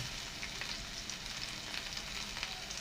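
Garlic sautéing in a pan with shallots, green chillies and curry leaves for a prawn and ivy gourd stir-fry, giving a steady close broadband sizzle and crackle that holds throughout with no talking.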